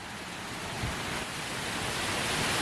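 Steady, dense rush of water from a waterfall on the trail to Pangali waterfall in Daringbadi, a continuous broadband roar at even loudness throughout with no voices.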